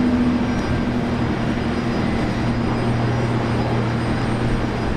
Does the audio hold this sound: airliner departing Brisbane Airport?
yes